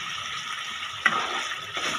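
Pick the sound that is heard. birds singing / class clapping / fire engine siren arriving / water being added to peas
water being added to peas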